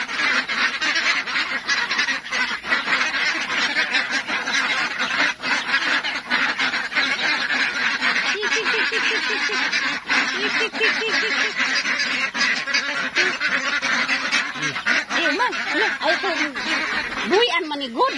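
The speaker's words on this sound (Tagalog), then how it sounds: "madungog na nato ang kasaba sa itik" A flock of farmyard ducks quacks and honks continuously in a rural setting, loud and close, with overlapping calls throughout and a voice speaking briefly.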